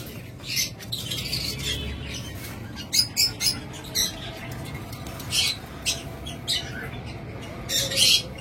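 Pet birds kept for sale chirp and squawk in bursts over a constant background hum, their calls overlapping and recurring close by throughout.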